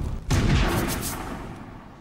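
A single gunshot from the 1993 action movie Last Action Hero, a sudden loud blast that then decays into a booming, echoing tail over about two seconds, heard alone without talk.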